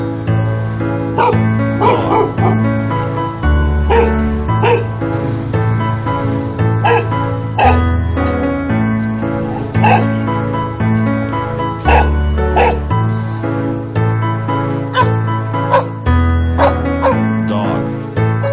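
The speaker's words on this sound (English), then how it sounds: "Dog." A dog barks repeatedly in short yipping bursts, some whimpering, over a sustained low backing tone, close and loud throughout.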